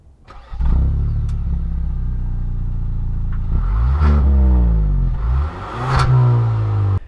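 Exhaust of a Kia Stinger GT Line with a 2.0-liter turbo four, recorded close at the rear: the engine starts, settles into a steady idle, then revs loudly several times with sweeping pitch rises.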